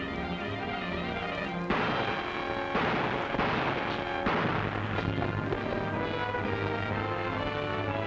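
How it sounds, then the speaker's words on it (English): Several heavy, booming gunshots crack out one after another over a dense, roaring background, loud and chaotic, in a 1944 film. "Gunshots!"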